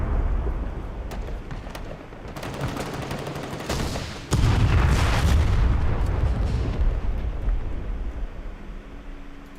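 Heavy booming blasts of artillery fire in a video game, a burst of sharp reports building around four seconds into a loud, sustained rumbling barrage with scattered crackling gunfire, no voices.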